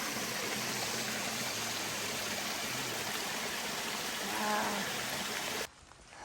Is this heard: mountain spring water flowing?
yes